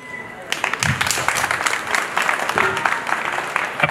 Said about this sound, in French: applaudissez s'il vous plaît, c'est les précédents présidents